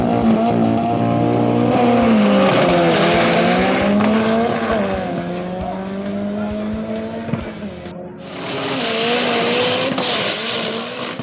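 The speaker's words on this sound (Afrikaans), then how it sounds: "Hierso is een van Gunther se runs en ouens, hierdie pushrod is warm." A hot pushrod-engined Mini Cooper race car screams through a run, its engine revving hard and rising and falling in pitch with gear changes, tyres squealing at moments, loud and close throughout.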